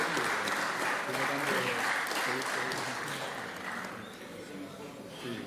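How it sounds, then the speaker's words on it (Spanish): Applause from the floor and gallery greets visiting student leaders at a session of Chile's Chamber of Deputies. It forms a dense, steady wash of many hands that holds strong, then gradually thins and softens toward the end. "Los saludamos en la tribuna con un aplauso."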